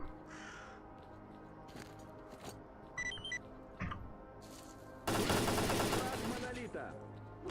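Rifle gunfire in the video game S.T.A.L.K.E.R.: Call of Pripyat, a few separate shots followed by a loud, dense burst of rapid fire over steady game ambience.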